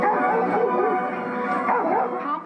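Small dogs indoors yip and bark in an agitated, overlapping jumble, close and fairly loud, with whining tones woven through the rapid calls.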